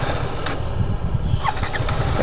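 A motorcycle stalled in thick mud is restarted and runs with a steady, close, low rumbling idle, with faint higher mechanical whines rising over it near the end.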